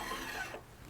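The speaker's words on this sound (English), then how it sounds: "That's the sound of the file hitting finish." A close rasping scrape of a fret file hitting a guitar's finish fades into quieter rubbing within a second.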